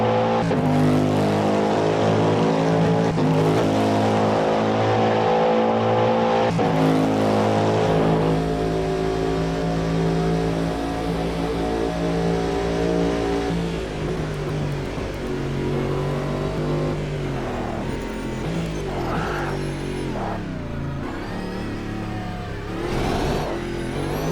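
A race car in the Automobilista driving game roars loud and continuous, its engine note rising and falling through gear changes and revs, with a constant whirring drone underneath and no talk.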